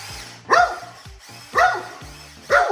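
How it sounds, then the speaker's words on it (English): A dog barks in three sharp, evenly spaced yelps about a second apart, close and loud, aimed at a small amphibious RC tank, with a low background rumble between barks. "Can it survive a Zara attack? I think it's dog certified"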